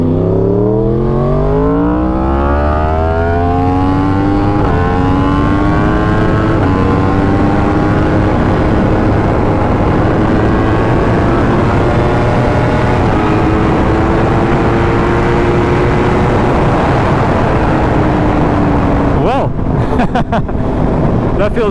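A Yamaha R1 sport motorcycle with a freshly flashed ECU pulls hard on a street test ride, its engine climbing through rising revs and shifting gears repeatedly, loud and close with heavy wind rush throughout.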